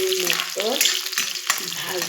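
Chopped onions hitting a little hot oil, frying with a steady bright sizzle and a few stirring scrapes, close and fairly loud with no talking.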